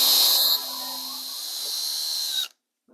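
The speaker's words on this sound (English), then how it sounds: "So I need to mark this so I can drill a hole." Power drill boring a 1/4-inch hole in a model railway layout deck, a loud high whine that starts hard, settles into a steady drone, then cuts off abruptly, leaving near silence.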